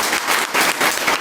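Loud, dense applause from a crowd at a Marathi devotional kirtan, a steady burst of many hands clapping together with no voices over it.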